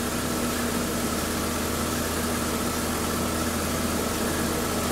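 A 2011 Buick Regal Turbo with a 2.0 engine idles steadily, a constant low hum and drone from close by with no talking.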